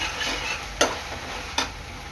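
Vegetables and sauce for soybean fried rice stir-fry in a pan with a soft continuous sizzle, broken by two sharp utensil clicks against the pan.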